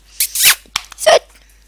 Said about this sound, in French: Alors, il y a mon chien qui est en train de rentrer.